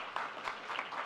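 Brief, steady applause from an audience at a development bank and philanthropy event, heard as a short, even wash of clapping at moderate distance.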